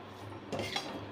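A spatula scrapes and clinks briefly against a pan as bitter gourd fry dusted with garam masala is stirred, one short close burst over a quiet background.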